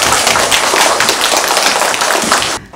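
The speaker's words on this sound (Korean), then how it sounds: "우리 6학년들 다시 한번 박수 쳐주세요." A group of sixth graders at Suhoe Elementary School claps in dense, steady applause that fills the room for over two seconds, then cuts off abruptly.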